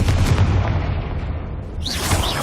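A Confringo spell explosion in the Hogwarts Legacy video game booms loud and close, a heavy low blast rolling through the whole moment, with a brighter magical shimmer rising near the end.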